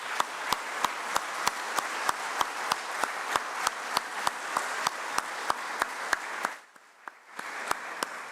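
A forum audience gives the organizing team a round of applause at the opening session, a full, steady wash of clapping with a strong regular beat running through it that briefly dips near the end before picking back up.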